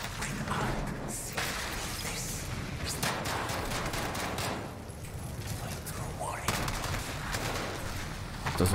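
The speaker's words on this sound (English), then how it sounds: "That's someone shooting me." Enemy gunfire aimed at the player in Call of Duty Modern Warfare's realism campaign, loud rapid automatic bursts and single shots mixed with impacts, continuous and close, with a voice talking over the shooting.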